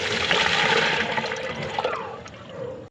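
Kangkong (water spinach) is rinsed in water, producing a loud, close, sustained sloshing and splashing that tapers off at the end.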